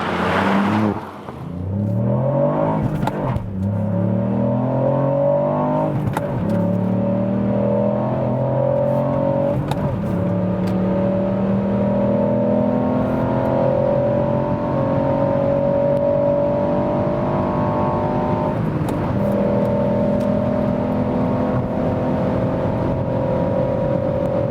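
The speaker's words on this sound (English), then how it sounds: "so impressive acceleration for such a small vehicle" A 2021 Ford Puma ST accelerates hard toward nearly 200 km/h, its engine note climbing steadily through rising gears with brief shift dips, loud and continuous from inside the cabin with no talk.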